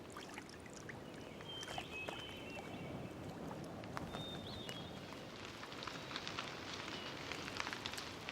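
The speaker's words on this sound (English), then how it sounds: "there's a sudden shower of rain" Sudden rain shower in a great grey owl's forest nesting area, a dense, steady hiss of drops pattering on leaves and surfaces, even and continuous throughout, fairly quiet and with no voices.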